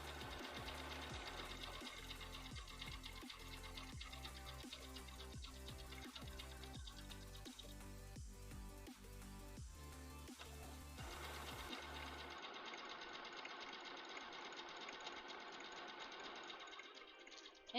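A sewing machine running a satin stitch on a Poison Ivy cosplay costume, whirring steadily and loud with a rapid mechanical rhythm for most of the span before the motor sound thins near the end.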